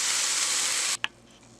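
Tomatoes and tomato paste sizzle loudly and steadily as they cook down, then the sound cuts off abruptly about a second in, followed by a single sharp clink and quiet room tone.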